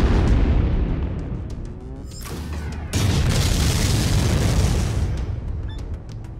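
A mech blowing apart in MechWarrior 5 on Xbox One: loud, sustained booming blasts with crackling debris, a sharp fresh explosion midway, then rumble fading under faint clicks.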